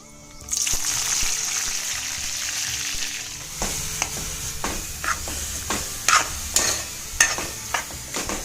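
Capsicum and peas sauté in a pan over a steady hiss and sizzle, with repeated sharp clicks and scrapes of a spoon stirring them at close range, and no speech.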